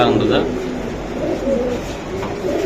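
Pigeons at a market selling racing and Pakistani teddy pigeons give soft cooing calls, mixed with steady crowd chatter and nearby voices throughout.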